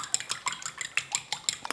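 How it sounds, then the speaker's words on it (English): Egg thinned with a few teaspoons of water whisked in a bowl for an egg wash, a quick regular series of light clinking taps from the utensil against the bowl, close and alone. "And we'll whisk this up."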